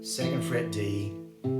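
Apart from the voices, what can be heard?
No distinct noise like a dog, phone or traffic.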